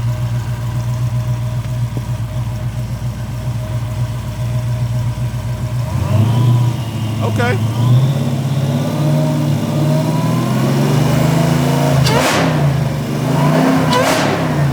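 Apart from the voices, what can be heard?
supercharger whine from revving car engine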